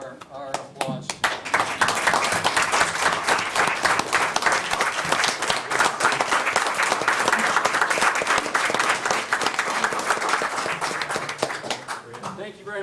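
A city council meeting audience applauds families of Vietnam-era veterans, sustained dense clapping from many hands lasting over ten seconds, loud and even before fading out.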